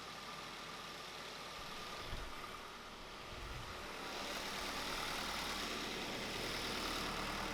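Ford Focus engine idling steadily just after starting, a continuous low rumble that grows slightly louder and fuller midway, with no speech.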